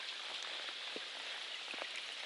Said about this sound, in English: it's probably just a little sprinkle in the mountains